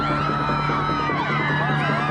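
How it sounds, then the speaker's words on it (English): Panicked crowd screaming and yelling inside the Wilmington courthouse lobby after gunfire, a dense wash of overlapping shrieks and shouts, loud and close, with voices rising and falling continuously. "as panic screams fill the air"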